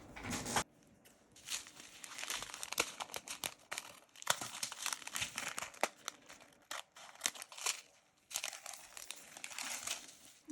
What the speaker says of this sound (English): Let me just grab my scissors so that I can cut these open real quick